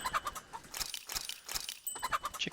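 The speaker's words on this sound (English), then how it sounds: "Let's get some more chickens." Chickens cluck repeatedly in Tales of Arise, with short rhythmic clucks close up and clear over a light game background.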